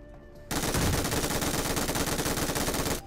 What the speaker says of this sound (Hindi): फायर किया और भाई MG3 में 18 गोली